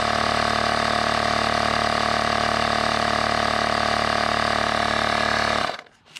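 Kingfit portable cordless tire air inflator pumping up a tire: a steady, loud, droning motor buzz with a constant pitch, close by, running without a break until it cuts off abruptly near the end.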